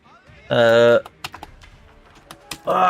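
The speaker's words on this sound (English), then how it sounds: "Stiff key on my keyboard." Keys clacking on a computer keyboard with one stiff key, a scattering of quick sharp taps between bursts of a loud voice talking over them.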